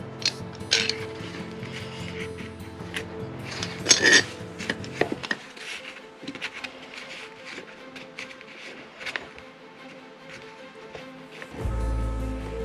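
Metal clamp being tightened while fitting a stone and wood sink, giving a run of close ratcheting, clicking mechanical sounds with clinks, then quieter handling and a low thump near the end.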